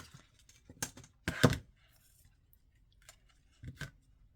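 Scissors snip through elastic in a few short, crisp cuts up close, with a louder double snip in the middle and quiet handling between, no voices.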